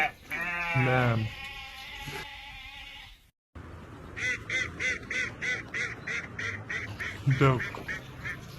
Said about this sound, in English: Lamb.